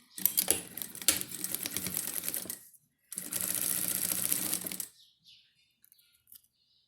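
A sewing machine stitches a wallet with the presser foot down, running in two steady, loud mechanical bursts of rapid stitching separated by a short pause, then quiet with faint handling noises.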